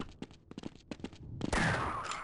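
Several short game gunshots in Half-Life fire in a quick, irregular series, then give way to one loud, sustained blast that rings on to the end.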